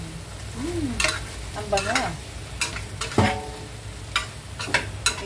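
Chinese food is stirred as it fries in a pan, a steady sizzle broken by repeated scrapes and clanks of the utensil; a voice speaks briefly.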